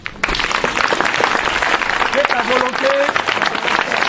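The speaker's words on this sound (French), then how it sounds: "On acclame Jésus." A church congregation bursts into loud, dense applause acclaiming Jesus, clapping starting abruptly and holding strong to the end, with a few brief whistle-like tones and voices mixed in.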